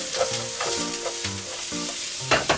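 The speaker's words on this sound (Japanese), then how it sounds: "この間にキノコをこのまま炒めると、結構水分もともとキノコって多いから結構大変なのよ。" Mushrooms being stir-fried in a pan, with a close, steady sizzle broken by several rhythmic scraping strokes of a utensil against the pan and a couple of louder clatters near the end.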